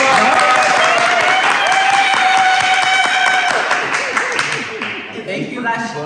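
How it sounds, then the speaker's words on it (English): An interview audience claps for the camera operator, steady applause filling the whole stretch and tapering slightly at the end, with voices mixed in over it. "Hey, round of applause for Rebel."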